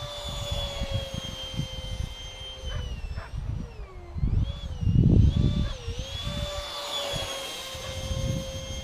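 A CustomRC Concorde model airplane cruises and rolls through the air at golden hour, its high whining electric jet tone sweeping up and down in pitch, swelling louder as it passes closer, with wind rumble buffeting underneath.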